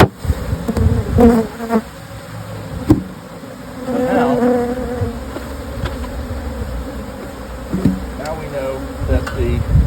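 Honeybees buzz around a single-brood-chamber hive, a close, continuous droning hum with scattered knocks and clicks as the hive is worked, and someone speaking briefly.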